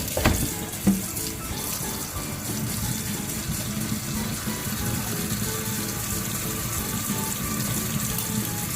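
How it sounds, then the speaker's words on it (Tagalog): Tap water runs steadily into a kitchen sink while vegetables are washed for a tuna salad, a continuous, fairly close splashing rush with a couple of small knocks near the start. "we have to wash well our vegetables"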